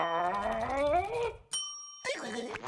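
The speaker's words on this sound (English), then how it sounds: "SpongeBob, stop ringing this bell." A bell rings once in a SpongeBob cartoon, a single bright, clear ding that stops after about half a second. Animated character voices talk before and after it.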